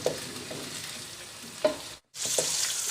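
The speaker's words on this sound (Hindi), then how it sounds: "इसके अंदर हम चिकन शामिल करेंगे। चिकन को भी फ्राई करेंगे।" Chicken frying in a pan with browned onions for chicken karahi: a close, steady sizzle broken by stirring scrapes and one brief silent gap, with no one talking.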